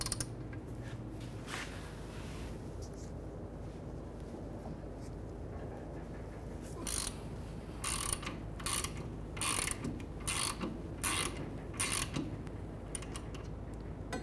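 A ratchet wrench loosens the 14 mm caliper bracket bolts on a 2015-2019 Hyundai Sonata's rear brake, with quiet working noise giving way to bursts of rapid clicking ratchet strokes.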